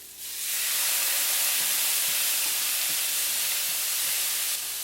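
Cooking wine hits a hot pan of browning spare ribs, bursting into a loud, steady sizzle and hiss that holds evenly for several seconds before cutting off.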